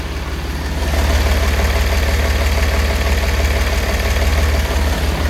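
A Mercedes-Benz MBB 1621 truck with a rebuilt OM366LA diesel engine idles close by, giving a loud, steady low rumble with an even pulsing beat that rises slightly after the first second, with no talk over it.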